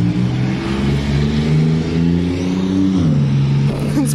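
A car engine runs loud and steady near the listener, a continuous low drone whose pitch dips around the three-second mark, with no talk over it.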